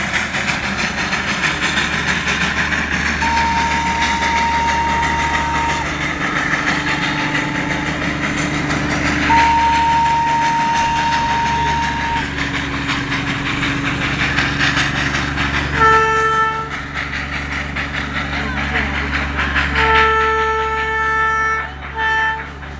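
A Darjeeling toy train rumbles past on rails with a steady engine drone and clattering wheels, its horn sounding in several long tones over the passing noise, close and loud.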